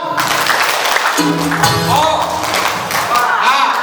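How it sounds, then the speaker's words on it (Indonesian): A lively church gathering of older adults claps loudly and unevenly, with voices and cheerful chatter running through the applause. "Tepuk tangan buat kita semua."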